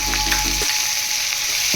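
Fenugreek seeds hit hot oil already cooking a crushed chilli thecha, giving a loud, close crackling sizzle that stays steady throughout, with a low rumble fading out partway.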